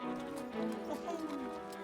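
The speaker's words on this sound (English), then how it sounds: "let's just get a horse to pull it on a wagon" Horse hooves clip-clop steadily while pulling a wagon, a short podcast sound effect, with faint neighing textures and speech murmuring underneath.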